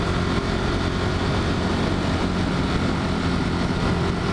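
A Ducati Monster 1200 motorcycle engine under way at high revs, a loud, continuous droning roar with steady vibration and wind rush that holds constant the whole time.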